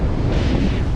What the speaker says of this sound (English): Here's a little view of the ocean today here at Turtle Beach.